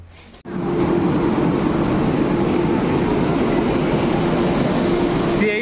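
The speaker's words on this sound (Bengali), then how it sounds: "তো এই হলো আমাদের ট্রেন আজকের বন্দে ভারত" A Vande Bharat Express train gives off a loud, steady rumble with a constant tonal hum at New Jalpaiguri station, beginning after a brief pause and continuing unbroken.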